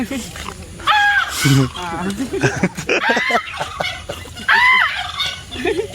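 Loud turkey gobbles burst out in rapid warbling rattles, repeated a few times close by on a durian farm, with voices mixed in between.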